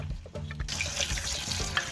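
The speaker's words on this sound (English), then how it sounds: "I wash the raw rice until the water is clean and clear" Raw rice being washed under a running kitchen tap: a steady, close rush of water into a bowl begins after a brief low rumble and continues without talk.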